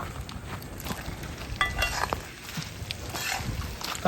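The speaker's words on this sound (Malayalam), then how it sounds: "അതിലോട്ട് നമ്മൾ വറുത്ത് വെച്ച ചിക്കൻ ഇട്ട് കൊടുക്കുകയാണ്" Steady oil sizzle as fried chicken is added to gravy for dragon chicken, with a few soft stirring scrapes and clinks of a pan, fairly close, with no talking.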